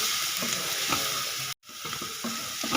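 Spices, turmeric, green chili and garam masala are stirred through in a hot pan, giving a continuous close sizzle with soft scraping strokes and one brief dropout midway.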